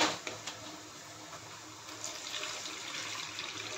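Half a glass of water poured into a hot pan of fried tomato and spice masala for tawa fry matar paneer, a steady splashing hiss and sizzle lasting several seconds, close and fairly quiet.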